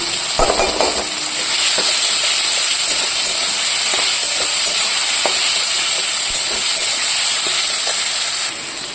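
Grated ginger hits hot oil in a frying pan with a brief clatter, then a loud, continuous close-up sizzle holds steady for several seconds before cutting off near the end.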